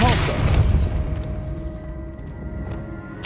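A Depulso spell cast in Hogwarts Legacy, a video game, landing as a loud booming burst that decays into a low rumble and fades over a few seconds.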